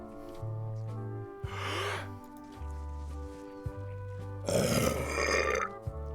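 Burp sound effects from the video game Return to Monkey Island, two loud drawn-out belches over a low, rhythmic game music loop with short thumps in between.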